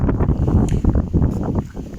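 Strong outdoor wind buffets the microphone in loud, low, gusty rumbles that keep going through the whole short stretch.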